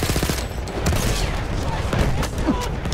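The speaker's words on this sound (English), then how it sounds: "Oh my god, these guys are firing." Enemy soldiers fire in Battlefield 1 in a dense fusillade of rapid machine-gun bursts and shots. Loud overlapping cracks and booms continue without a break.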